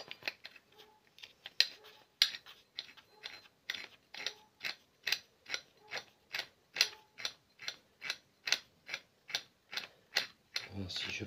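Rapid, evenly spaced ratcheting clicks from a screwdriver unscrewing parts of a DeLonghi ESAM04 coffee machine, close and fairly quiet, running in a steady rhythm throughout.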